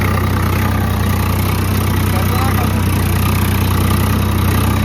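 A tractor engine drones loudly and steadily while pulling a plough through a field, a constant close rumble with no break.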